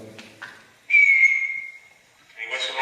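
A single clear whistle rings out, held for about a second and slowly fading, with brief bits of voice before and after.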